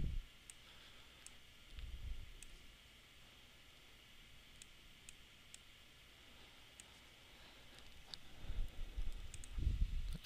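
Computer mouse double clicks while digitizing in CorelDRAW, faint sharp paired ticks scattered over a quiet background hum, with a few low bumps of handling noise.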